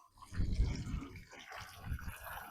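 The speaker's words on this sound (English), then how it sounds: "now I've turned the water on, and you can see it coming out here very well" Water running from a boat's water tap, an uneven gurgling splash and trickle nearby, fairly quiet and irregular.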